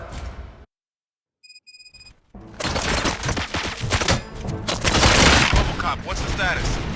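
Gunfire bursts out in the video game RoboCop Rogue City after a moment of silence and a few electronic beeps, a loud, dense fusillade of rapid shots and impacts that keeps going to the end.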